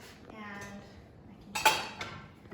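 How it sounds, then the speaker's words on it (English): Vegetables for a vegan chili drop into a cooking pot with a sudden clattering thud and a few metallic clinks, after a quieter stretch with a faint voice. "So then once you cook that, you can just throw your vegetables in."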